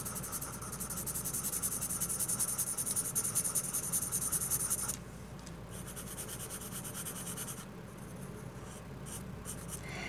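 A pencil shades on paper during a realistic portrait drawing, giving a continuous scratchy rubbing of steady strokes that eases slightly partway through, close and alone with no talk.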